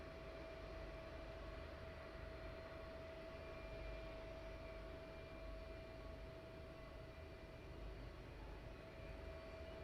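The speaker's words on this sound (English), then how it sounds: "we'll pan around to the next aircraft taxiing off" Jet aircraft taxiing at night at East Midlands Airport, a steady distant engine drone and low rumble with a constant whine, holding even throughout with no talk.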